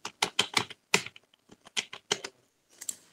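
Keys are struck crisply and close up, typing text on a keyboard in an AutoCAD session, in uneven clusters of clacks. Short gaps separate the bursts.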